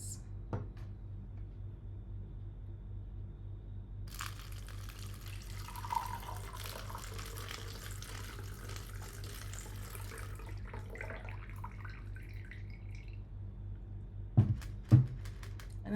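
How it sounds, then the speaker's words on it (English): Water trickles steadily over stones inside a homemade structured-water device, a soft continuous flow with a couple of sharper clinks near the end against a low steady hum. "a small vortex, probably a bunch of little vortexes, as the water goes over the stones"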